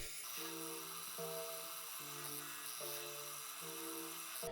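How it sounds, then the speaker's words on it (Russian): A drill bores a hole in the movable jaw of a homemade machine vise, giving a faint, steady whining hum whose pitch shifts in stepped changes as the bit bites and eases off. "сверлю отверстие в подвижной губке."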